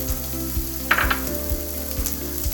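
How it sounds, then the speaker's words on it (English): Diced onion sizzles steadily in hot oil in a pan, a constant close frying hiss with a few soft stirring taps. "Once it's hot, we'll add our diced onion,"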